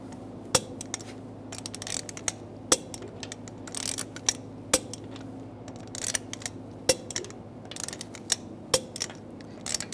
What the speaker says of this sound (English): we're going to torque the lug bolts down to 95 foot-pounds in a cross pattern to tighten the wheel down